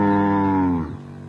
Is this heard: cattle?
yes